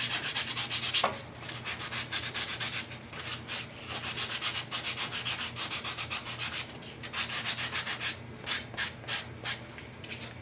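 Foam scrubbed with the coarse side of a drywall sanding sponge gives repeated close, raspy rubbing strokes, continuous at first and then breaking into short separate passes near the end.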